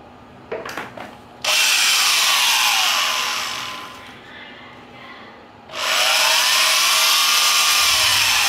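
An old Japanese Hitachi tapping drill runs at its slowest speed, giving a loud, steady motor whine that starts after a few short clicks, dips briefly, then surges back up.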